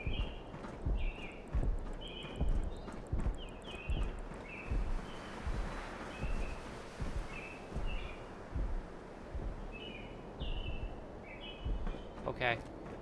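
Rhythmic, thudding footsteps of the player character walking in a Fallout video game set in the Commonwealth. The steps are fairly loud and steady, over outdoor ambience with bird chirps.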